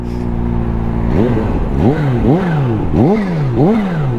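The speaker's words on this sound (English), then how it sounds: "you hear that supercharger whine?" A 2023 Kawasaki ZH2 supercharged motorcycle revving through repeated rising and falling engine sweeps, with a whine riding over the loud, close engine note throughout.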